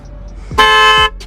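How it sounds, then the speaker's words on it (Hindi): A brief, loud, brassy blast from an aftermarket trumpet horn fitted to a 2021 Tata Nexon EV, lasting about half a second, preceded by a soft click and followed by a short faint tail. "okay, so this was a trumpet horn"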